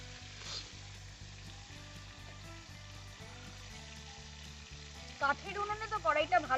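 Quiet hissing of prawns frying in a wok over a wood fire, with a low rhythmic hum beneath, then louder bubbling and spattering bursts toward the end.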